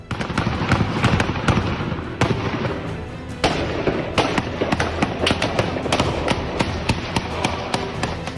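Automatic gunfire on a street in Dagestan: sharp cracks come in irregular bursts and single shots, loud and echoing, over a constant rumbling background, with no talk.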